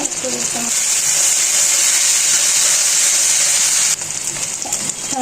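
Ginger garlic paste hits a hot pan, giving a loud, steady sizzle and hiss that holds close and constant, dipping slightly near the end.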